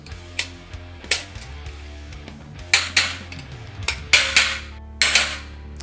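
Metal tri-clamps snap and clack shut on a Grainfather SF70 conical fermenter lid, giving sharp, close clicks in irregular pairs with brief ringing, over a low hum.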